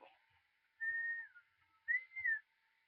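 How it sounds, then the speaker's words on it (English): A person calls a cat with two clear, sustained whistles, each about half a second long and slightly falling in pitch at the end. The whistles are close and stand out against quiet surroundings. "She answers to whistling."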